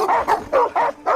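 Several dogs bark in short, sharp bursts, about five yips and barks in quick succession, loud and close with no talk over them.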